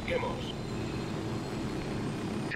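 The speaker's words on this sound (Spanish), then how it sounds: "se acercan dos helicópteros" Two helicopters approaching in the Ghost Recon video game, a steady low rotor and engine roar filling the scene at moderate loudness, with faint higher game tones over it.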